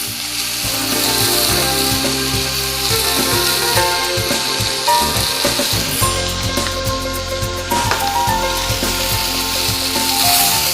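Tomatoes fry in oil with salt and chili powder in a pan. A loud, continuous sizzle runs throughout, broken by scraping and clicking from stirring.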